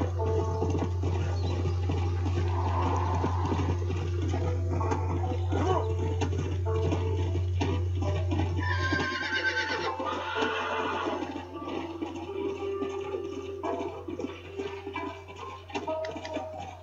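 Horse whinnying and hooves from the video game Red Dead Redemption, set against a steady low hum and game ambience that drops partway through; the horse sounds stay fairly faint within the mix.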